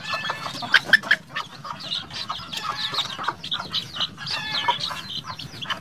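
Native chickens in a coop cluck and call steadily throughout, several birds close by with overlapping short clucks over a low rustling background.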